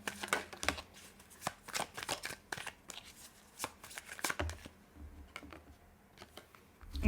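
Tarot cards are shuffled and drawn close by, a quiet run of crisp riffling snaps and soft slaps in irregular clusters, with the odd faint murmur in the background.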